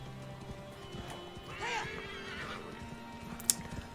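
A horse in the video game Assassin's Creed Valhalla gives a short, fairly faint neigh amid soft clip-clop hoofbeats and a quiet low game ambience, followed by a brief sharp click.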